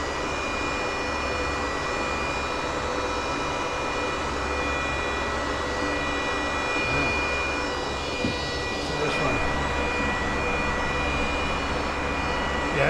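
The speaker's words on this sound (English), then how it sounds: "This AC is blowing directly into that fan." Steady broadband roar of an air conditioner blowing straight into an intake fan inside a crypto mining shed, a constant whooshing drone that fills the space at close range with little variation.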